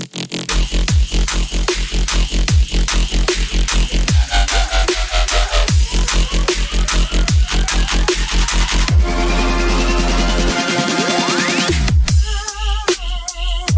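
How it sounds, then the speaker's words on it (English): An electronic synth sample in an Ableton-produced track, with auto pan sweeping it like an LFO, plays loud and dense with steady repeating pulses and rising tonal sweeps, alone without talk. "Auto pan acting as an LFO"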